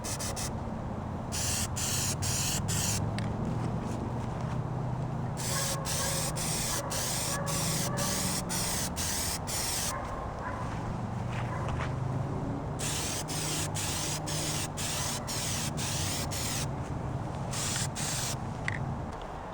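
A can of Plasti Dip sprays a second coat in repeated hissing bursts, some short and some held longer, close up over a steady background rumble.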